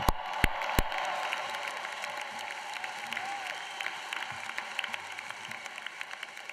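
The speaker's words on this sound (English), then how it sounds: "join me in a joyous, raucous round of applause for families and friends of our graduates" Sustained applause from a large crowd at a university graduation ceremony, a dense even wash of claps heard at a distance, with a few louder thumps at the start.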